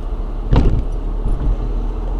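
A car passes close by a queue at a petrol station, a short swell of tyre and engine noise over a steady low in-car rumble.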